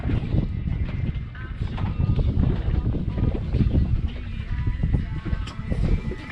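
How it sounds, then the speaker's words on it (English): Gusty wind buffets the microphone outdoors on a small fishing boat out for whiting. The low rumbling blasts rise and fall irregularly, with faint voices now and then beneath the roar. "It's a bit windy, but that's fine."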